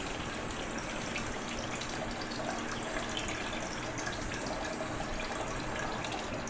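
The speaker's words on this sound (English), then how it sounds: "then we'll just fill this thing back up with water" Water flowing steadily while flushing the radiator of a 2003 Yamaha YZ125 dirt bike, a continuous close splashing, tap-like stream with no voices.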